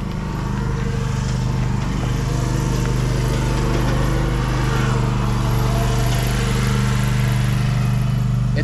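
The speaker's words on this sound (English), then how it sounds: "It's mowing day." A lawn mower runs steadily nearby beside a parked 2023 Lance 2075 travel trailer, its continuous low engine drone holding at an even level throughout with no speech.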